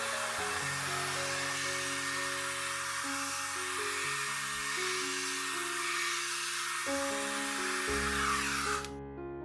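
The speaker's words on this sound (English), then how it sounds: "use a hair dryer or paper towels if you need it to dry faster" Hair dryer blowing steadily on washed ginger, a loud continuous hiss with a motor hum that shifts pitch a few times before cutting off abruptly near the end.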